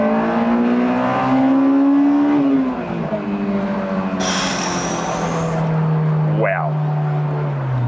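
A Honda S2000 engine revving high toward its 9,000 RPM redline and holding, then the pitch drops as it eases off, loud and close, with a brief higher whine joining midway.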